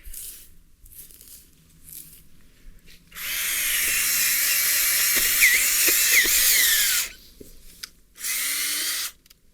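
A handheld garden auger drill bores into grassy ground with a loud, close, sustained whirring power-tool drone that grinds through soil for several seconds, then stops and gives a second short burst, with no talking.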